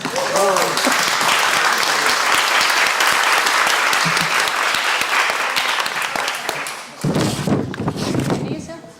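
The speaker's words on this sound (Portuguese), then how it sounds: "você merece mais uma salva de palmas" An audience applauds at a human rights graduate seminar debate session, a dense sustained clapping that fills the room for about seven seconds before tapering, then a voice begins speaking.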